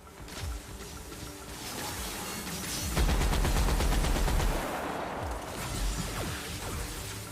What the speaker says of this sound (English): I immediately shoot the back of the robot